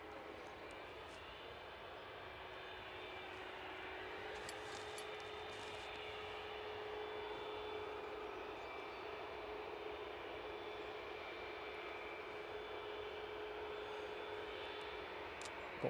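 EasyJet airliner departing Edinburgh Airport for London Luton, a faint, distant jet roar holding steady and swelling slightly, with a thin whine layered over a broad rumble.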